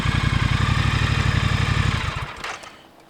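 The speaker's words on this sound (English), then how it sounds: "what a fantastic machine. 2017 Thruxton Bonneville." A 2017 Triumph Thruxton Bonneville motorcycle engine idles loudly and steadily up close with a regular throbbing pulse, then cuts off and fades out near the end.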